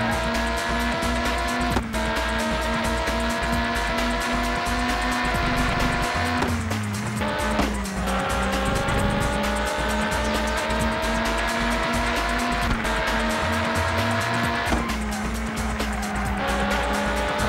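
Racing cars in the PS1 game Le Mans 24 Hours roar steadily with sustained engine drone, gear shifts and intermittent tire squeal as a prototype car runs off the track and back, loud and continuous throughout.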